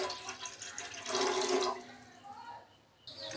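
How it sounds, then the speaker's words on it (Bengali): Water pours and splashes into a cooking pot on a gas stove while a potato curry is being prepared, a short, fairly loud gush that tapers off. "জল দিয়ে ভালো করে আগে উপরে চাপিয়ে দেবো, গ্যাসে চাপিয়ে দেবো।"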